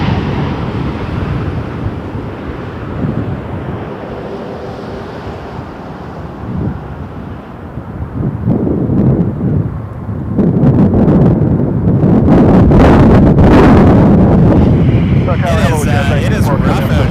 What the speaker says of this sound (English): It is windy as all heck.